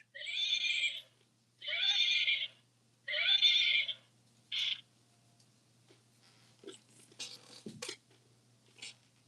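A horse neighs loudly three times in quick succession, each whinny long and quavering, then gives a short snort before quieter snuffles and light rustling trail off.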